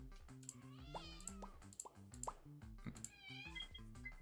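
A little cat in the video game Slime Rancher meows a few times in short, high, bending cries over bouncy plucked game music and soft plopping effects.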